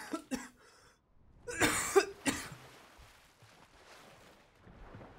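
A person coughs during a Fortnite Battle Royale game session: a couple of short coughs, then a harder, louder fit of two or three coughs, close to the microphone, followed by faint background noise.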